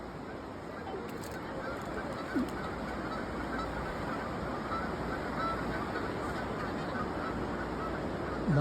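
Geese honk faintly in the distance by a riverwalk trail in Alabama, under a steady bed of outdoor noise.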